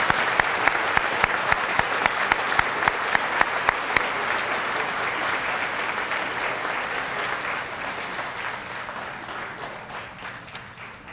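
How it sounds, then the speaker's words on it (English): Sustained audience applause for DARE graduates at a 2016 graduation ceremony: a dense roar of many hands with a few sharp, steady claps up front early on, slowly easing off toward the end. "Let's give a big round of applause to all of our 2016 DARE graduates."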